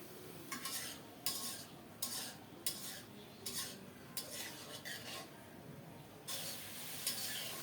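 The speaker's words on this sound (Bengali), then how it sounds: "রুই মাছের ঝোলে দেওয়ার জন্য একটু মশলা বেটে নিচ্ছি আদা জিরা দুইটা এলাচ এক পিস দারুচিনি" Ginger, cumin, two cardamom pods and a piece of cinnamon are ground into a spice paste with quiet, rhythmic scraping strokes repeating about once a second, faint and close.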